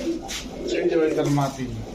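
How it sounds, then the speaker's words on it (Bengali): Pakistani-breed pigeons coo in low, throaty repeated calls close by, mixed with overlapping murmurs of nearby voices. "পুরান জাতের পাকিস্তানি কবুতর"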